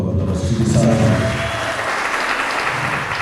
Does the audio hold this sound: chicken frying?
no